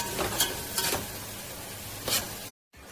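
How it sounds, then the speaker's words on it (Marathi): Onion sizzles in oil as it is sautéed in a pan until golden for pav bhaji. A steady hiss is broken by three stirring strokes, and the sound cuts out briefly near the end. "सोनेरी कलर येईपर्यंत हा कांदा चांगला परतून घ्यायचा आहे"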